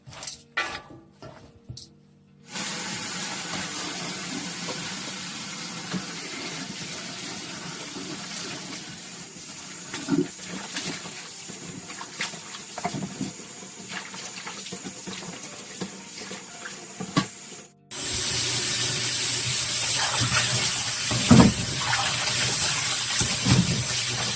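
Tap water runs into a sink as salted green onions are rinsed for kimchi, a steady gushing flow that pauses briefly near the start and again before the end, then resumes louder and splashier.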